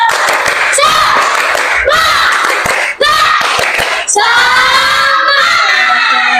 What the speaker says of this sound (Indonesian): biar gak ngantuk kita tepuk semangat dulu di jam terakhir ini